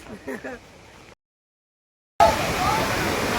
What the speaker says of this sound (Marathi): चला तुम्हाला आता पाणी दाखवतो किती स्पीडला जातंय